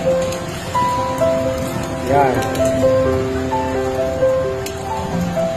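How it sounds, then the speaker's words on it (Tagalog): Steady heavy rain pours down continuously in Tagaytay during a typhoon while a person speaks over the noise. "Medyo stranded po kami kasi malakas ang ulan."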